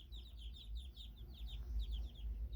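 Week-old chicks in an indoor brooder room give a rapid, continuous run of high peeping chirps, faint and somewhat distant over a low background rumble.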